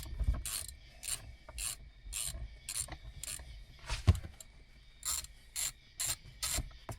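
A 14mm bolt with a long thread is backed out of a Lexus GX470 armrest. Steady close ratchet clicking runs throughout in short rhythmic bursts, with one louder clunk midway.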